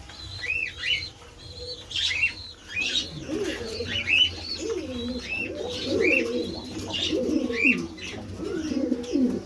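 Pet pigeons in a mixed collection of racers, grizzles and other pairs coo in low, repeated throaty phrases, with higher chirps and a brief flutter of wings mixed in nearby.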